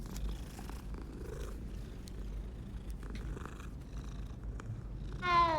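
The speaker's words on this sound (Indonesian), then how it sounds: "Kita bisa ngelus-ngelus kucing" A cat in the game Hogwarts Legacy purrs while being petted, a continuous low rumbling purr heard close and steady, ending with a brief higher chirp-like sound.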